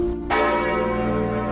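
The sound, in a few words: distant church bells ringing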